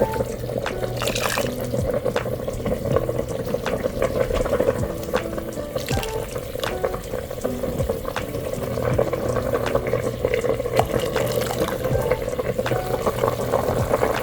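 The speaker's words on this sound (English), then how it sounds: "we're going to take out some of this broth. We're going to add it to a container." Broth from a pressure cooker pot of lamb shanks is poured into a container, a continuous close splashing trickle of liquid that holds steady throughout.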